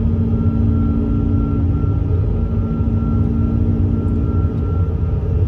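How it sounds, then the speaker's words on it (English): A Boeing 747-400 accelerates in its climb, a steady, loud jet roar with a constant tonal whine over deep rumble, unbroken and without voices. "The aircraft continues to accelerate."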